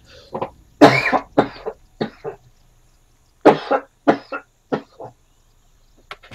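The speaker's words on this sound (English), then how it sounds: "I'm going to have to cough again" Repeated harsh coughing in bursts, close and fairly loud, with short pauses between fits and a few throat-clearing sounds, no talking.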